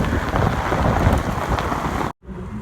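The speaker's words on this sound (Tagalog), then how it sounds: "So, Diyos ko, lakas ng ulan." Heavy rain in Dubai pours in a dense, roaring hiss with close splattering drops, loud and steady, then cuts off abruptly before a quieter patter resumes; no voices.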